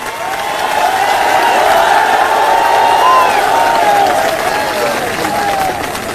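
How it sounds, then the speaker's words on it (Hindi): A political rally crowd claps and cheers at a Bahujan Samaj Party event, loud, close and sustained applause mixed with shouts and whistles. "एक बार जोरदार तालियां हमारे सभी युवा साथियों के लिए।"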